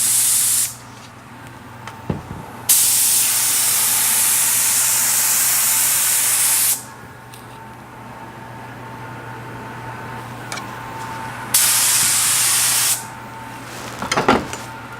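Hydrographics activator sprayed onto carbon fiber film for water transfer printing, in two long loud hissing bursts of several seconds each with quieter gaps and a steady background hum, close by, no talking.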